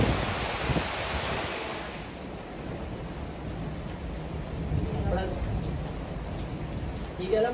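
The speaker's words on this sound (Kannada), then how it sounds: "ಗಾಳಿ ಮಳೆ ಗುಡುಗು." Steady, heavy monsoon rain pours down with wind around a village home, a broad continuous wash that eases slightly midway and swells again, with faint voices briefly audible underneath.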